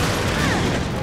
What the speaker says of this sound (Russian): Я пробую из дробовика пострелять сейчас в сердце.